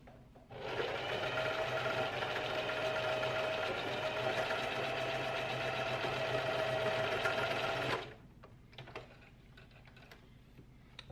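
A sewing machine stitching fabric runs in one steady, loud, fast whirring burst of about seven seconds, then stops, leaving quiet handling noises.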